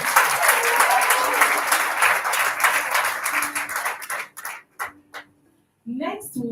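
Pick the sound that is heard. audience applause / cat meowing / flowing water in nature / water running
audience applause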